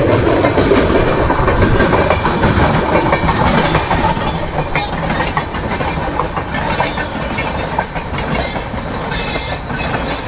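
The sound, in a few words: Azimganj–Krishnanagar passenger train running on rails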